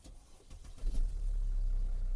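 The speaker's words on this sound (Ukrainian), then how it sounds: "Зараз перейдемо, як заводиться машина." A 2012 Mercedes-Benz W221 engine cranks briefly after a push-button start and catches, settling into a steady low idle; quiet and nearby.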